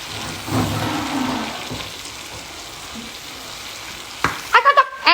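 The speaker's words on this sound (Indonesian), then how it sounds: "Kita goreng ya." Sambal ingredients frying in a pan give a steady broadband sizzle that runs through most of the clip, with a few sharp clatters near the end like a utensil knocking the pan.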